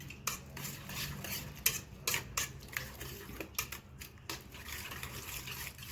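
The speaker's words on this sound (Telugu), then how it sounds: "ఇలా మంచిగా మిక్స్ చేసుకోవాలి." Eggs for a bread omelette batter are whisked briskly in a bowl, a steady run of quick scraping and light tapping strokes at close range, with no talk.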